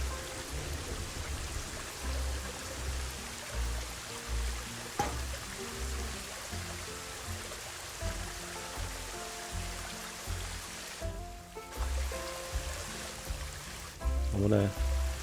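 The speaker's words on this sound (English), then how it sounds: "It's definitely looking like a waterfall now." Water rushes steadily from a waterfall built in the zoo-building game Planet Zoo, a continuous soft splashing wash that carries through the whole stretch with faint game sounds.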